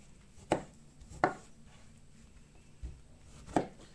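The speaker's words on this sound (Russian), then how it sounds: "И нарезаю на крупные куски." A knife chops through fruit on a board in four sharp, separate strokes with quiet pauses between them, close and distinct.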